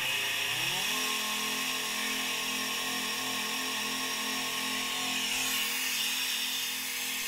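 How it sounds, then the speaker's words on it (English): The air assist pump on an Atomstack X20 Pro laser engraver runs as a steady, even mechanical hum with a buzzing whine, close and constant throughout with no talking. "particularly to try the air assist pump and to see how loud it would be."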